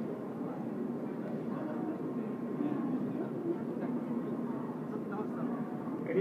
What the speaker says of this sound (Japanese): 郡山からの那須の278号が到着をしております。